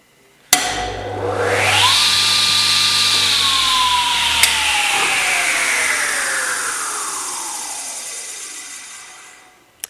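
Scheppach TS310 table saw motor starting up with a sharp click, then a rising whine that holds steady before slowly winding down as the blade spins to a stop, loud and close with no talking.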